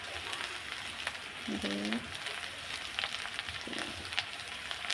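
Potatoes frying in a pan in a home kitchen give off a steady, moderately loud sizzling hiss as they are stirred, with a brief voice rising over it early on.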